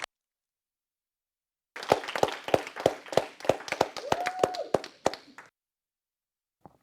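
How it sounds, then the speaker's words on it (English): A small group claps after a student entrepreneur's pitch, a short run of about a dozen sharp, distinct hand claps close by, starting after a silence and stopping abruptly. "Hand of applause."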